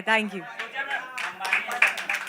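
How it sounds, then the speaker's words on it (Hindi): An audience claps at the grand launch event of the TV serial Sravani, a short patter of hands heard beneath and between voices speaking close by. "विशाल जी के लिए तालियां हो जाए."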